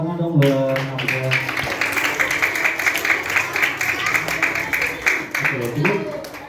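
Classroom children clap for a boy named Hamzah, a lively sustained patter of many hands, with a voice speaking over the start and again near the end.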